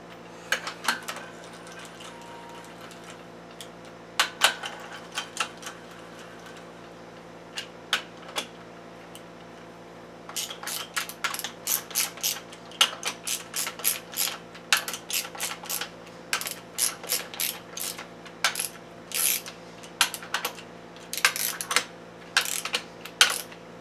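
A ratchet wrench tightens bolts on a Mazda RX8 Renesis rotary engine during a ported engine build, producing sparse clicks at first and then dense, rapid, quiet clicking runs close by.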